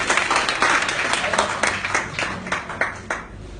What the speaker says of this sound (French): Donc je voudrais qu'on l'applaudisse.